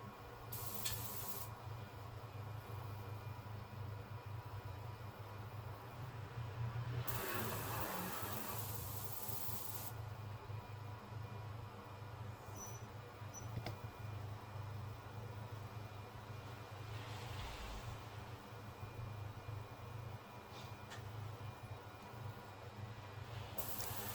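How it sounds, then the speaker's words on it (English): A coating is sprayed onto a freshly machined muzzle brake nut for a Daewoo K1A1 rifle barrel, a steady airy hiss running under a constant low background hum, with brief louder bursts partway through. "Now the nut that I just made and machined for the muzzle brake, giving that guy a spray."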